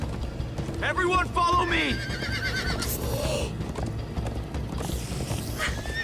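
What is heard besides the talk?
horses galloping and neighing in Minecraft: Story Mode video game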